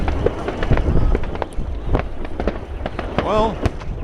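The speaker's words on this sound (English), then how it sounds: "it's New Year's Eve, so little firecrackers going up in the air" Small firecrackers go off on New Year's Eve near a huge bonfire in Duindorp, Scheveningen, as a rapid series of sharp cracks and pops over crowd murmur and wind, with a whistling rocket rising near the end.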